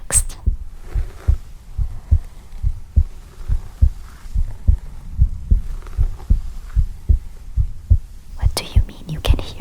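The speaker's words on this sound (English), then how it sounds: "You can hear my heartbeat." Heartbeat in an ASMR roleplay, a steady throbbing double pulse repeating close and low throughout, with a brief whisper-like breathy passage near the end.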